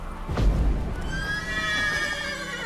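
A horse whinnies loudly up close in The Witcher 3: Wild Hunt, a shrill neigh that wavers and trails off, with a low thud underneath at the start.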